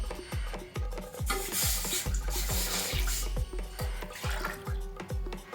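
Water goes into a kadai holding rice flour on the stove, a sloshing, splashing wash of liquid over a steady run of rhythmic knocks and taps, heard up close with no talking.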